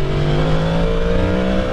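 A 2023 Yamaha MT10 supernaked motorcycle accelerates hard, its engine note loud and close, rising steadily in pitch through a short continuous pull.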